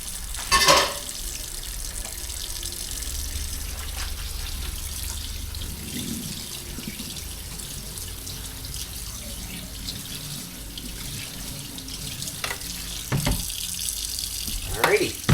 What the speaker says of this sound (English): we're gonna dump the noodles in there, and you just rinse them off because we want them to stop cooking